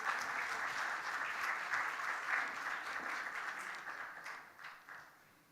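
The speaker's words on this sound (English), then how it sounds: "let's welcome with a big round of applause Mr." Conference audience applause welcomes a speaker, a steady roar of many hands clapping at a moderate distance that holds and then gradually fades toward the end.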